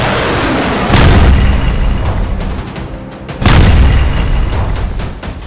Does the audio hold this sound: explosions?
yes